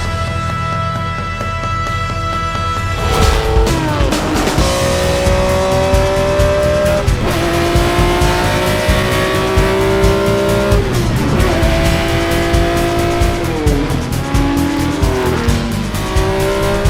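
A racing car on the 2024 Tour Auto overtakes others at speed, engine screaming through repeated upshifts and rising revs after a quieter start, with loud, close, sustained roar throughout.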